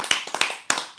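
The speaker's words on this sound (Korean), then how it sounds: "박수!" A few sharp hand claps at an informal talk-show recording, isolated irregular claps with brief gaps, close and crisp.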